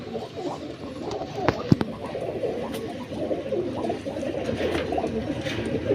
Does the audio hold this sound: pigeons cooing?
yes